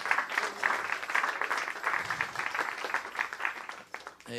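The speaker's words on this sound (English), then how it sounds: "Give the Lord a clap of praise this afternoon." A church congregation claps in praise during an afternoon service, the claps falling in a steady rhythmic beat, moderately close and fairly even in loudness throughout.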